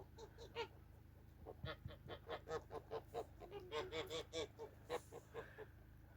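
Domestic geese in a farmyard honking repeatedly in quick, rhythmic bursts, a faint, somewhat distant chorus of nasal calls over a low background hum.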